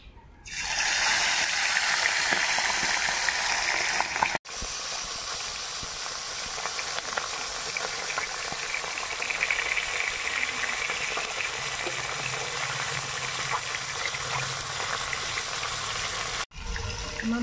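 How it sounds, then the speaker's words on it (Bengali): A fish head frying in hot mustard oil in a kadai, giving a loud, continuous sizzling hiss that runs for about sixteen seconds with two brief sharp breaks, close up and without talk. "এবার মাছের মাথাটা ভেজে নেব"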